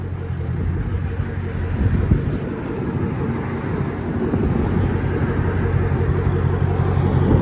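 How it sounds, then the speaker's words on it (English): A straight-piped, supercharged 6.2 Dodge Charger Hellcat widebody idles with a deep, steady, loud rumble, with a lumpy swell near the two-second mark and people talking over it. "Love the idle on it."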